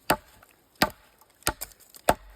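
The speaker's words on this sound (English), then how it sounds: "Just a one-handed chop, nice and supported." Gerber Downrange Tomahawk driven one-handed into wood: four sharp, close chopping thuds with a woody crack, irregularly spaced about half a second apart, each followed by a brief ring, no voices.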